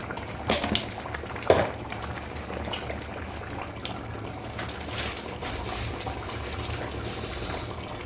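Half a teaspoon of cumin seeds crackle in hot oil as a continuous soft hiss with a few sharper pops near the start, fairly quiet and with no talk.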